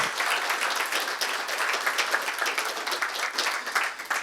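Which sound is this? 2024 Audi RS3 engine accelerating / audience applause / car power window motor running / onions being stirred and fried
audience applause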